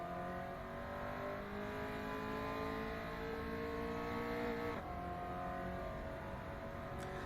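A race car in the rFactor 2 sim racing game at Interlagos, the engine droning with a steady harmonic whine that drops sharply under hard braking, then builds again, with no talk.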